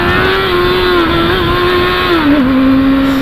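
A Honda Hornet motorcycle with its original exhaust and a swapped tip, idling loud and close with a smooth steady engine note that drops a step in pitch near the end.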